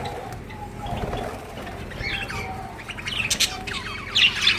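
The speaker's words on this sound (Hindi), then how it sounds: "बहुत प्यारे मेरे तोते हैं," Pet parrots in a home cage chirp and squawk in quick overlapping calls, with some wing flapping, close and fairly loud.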